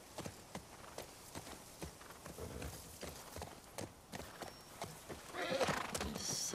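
Rhythmic clip-clop of horse hooves at a steady walking pace in the video game The Last of Us Part II, followed near the end by a brief horse whinny, with faint background noise.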